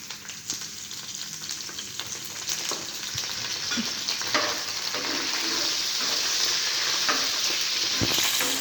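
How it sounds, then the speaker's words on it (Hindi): Cumin, green chillies, round red chillies and curry leaves crackle and sizzle in hot oil over a low flame, a dense continuous frying hiss with scattered pops, close by and steady throughout. "लो फ्लेम पे ही बघार लगाना है"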